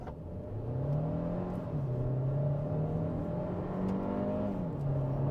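Hyundai Creta with a 160 PS engine pulling hard at full throttle, a loud continuous engine drone whose pitch climbs steadily, dips briefly at gear changes and climbs again, heard from inside the car.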